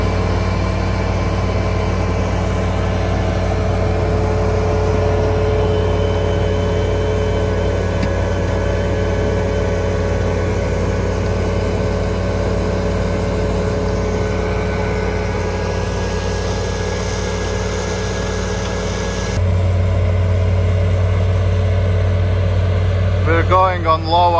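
A CONETEKS 2.5SF forestry mulcher attachment grinds brush and small stumps at low RPM, a steady heavy engine drone with a constant hum and a voice talking over it.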